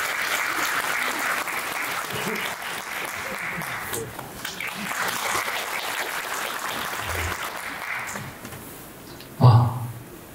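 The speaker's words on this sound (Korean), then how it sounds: "큰 박수로 맞아주시기 바랍니다" Moderate applause from a residents' meeting audience welcoming a presenter to a redevelopment briefing, steady for about eight seconds before tapering off, followed by a brief bump from a handled microphone.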